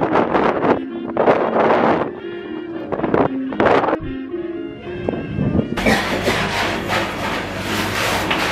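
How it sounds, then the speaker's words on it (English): Strong night wind in the Moon Valley area of Chile buffets the microphone in loud, roaring gusts, with rumbling bursts and a steady broadband rush that intensifies toward the end. "So windy!"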